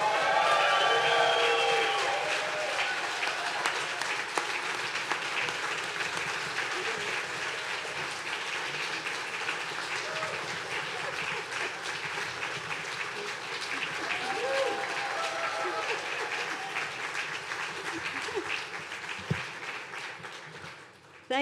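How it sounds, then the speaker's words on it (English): Large audience applauding loudly at a Caltrain electrification ceremony as former Speaker Nancy Pelosi is introduced, a dense sustained ovation that holds steady for about twenty seconds before tapering off. "Ladies and gentlemen, big round of applause to once Speaker, always Speaker, Nancy Pelosi."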